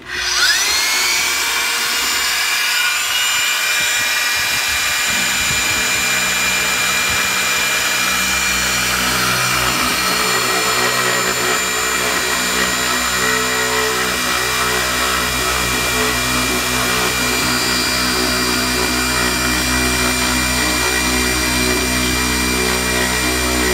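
A Keep-nut manual stone polisher runs continuously with a steady, loud motor whine and a rising tone as it spins up, holding an even pitch throughout without speech.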